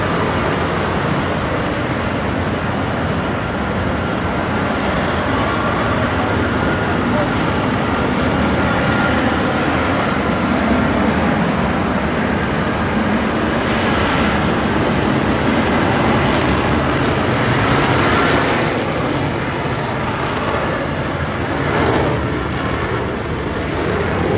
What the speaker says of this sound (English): Which is one of our most highly maneuverable aircraft, can perform about 17 Gs before you start having structural failure.